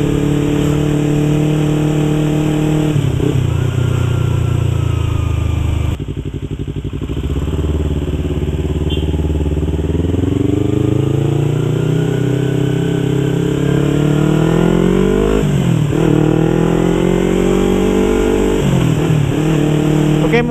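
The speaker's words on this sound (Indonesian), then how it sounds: "video test ride saya mengenai Yamaha R25 yang model lama ya" A 2015 Yamaha YZF R25 motorcycle on a test ride, its engine loud and close, rising and falling through revs and gear changes with steady wind noise throughout.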